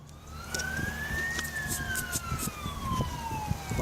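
A siren wails with a rising and falling pitch over steady road and engine noise, fairly close and continuous throughout.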